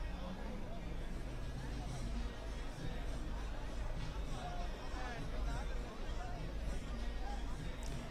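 Crowd at an election rally in Narayangarh during a BJP road show, a dense outdoor murmur of many voices with traffic-like rumble, steady and moderately loud throughout.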